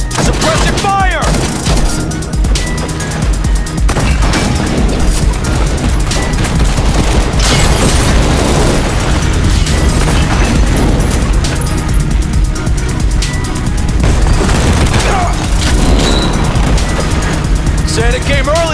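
Battlefield din from the video game World War Heroes during a clan team deathmatch: loud, dense bursts of rifle and machine-gun fire with heavy booms from grenade explosions, continuous and close, with game voice callouts over it.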